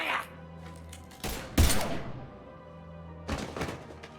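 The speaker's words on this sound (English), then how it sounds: "Now open fire!" Gunfire in Mass Effect 3 Legendary Edition, sharp bursts of shots crackling out in several clusters with heavy thuds amid a firefight, fairly loud against background combat noise.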